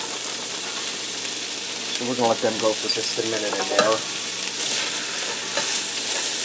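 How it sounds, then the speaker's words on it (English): Thin matchstick carrots stir-fry in a pan over a medium-heat stove, giving a steady, even sizzle throughout. A person talks briefly over it. "I'm going to get them in here and start stir-frying them until they start to soften up"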